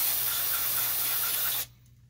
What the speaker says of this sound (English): That's straight carb cleaner.